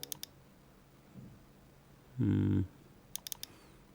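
Computer keyboard keys pressed while working in Photoshop: a few quick, close clicks at the start and again near the end, with a short, loud low droning tone in between and no talking.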